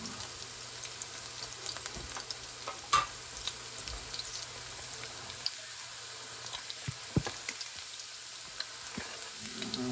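Garlic sautéing in a pan for pork igado, a continuous close sizzle with crackling pops and a few sharp scrapes of stirring, no voices over it.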